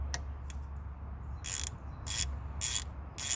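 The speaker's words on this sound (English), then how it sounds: "And then put your wrench on tighten" A ratchet wrench tightens a brake caliper bolt, giving several bursts of quick clicking at a steady rhythm, close and clear over a low hum.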